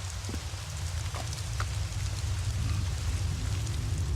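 Steady, heavy rain falls in a horror video game, a dense continuous hiss with a low rumble beneath it and a few faint drip-like ticks. The sound runs evenly throughout, with no voices.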